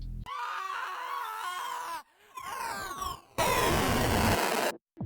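A harsh screech sound effect processed with bit crushing sits in a heavy music track, wailing in sustained bursts with short gaps and ending in a dense, loud distorted wash.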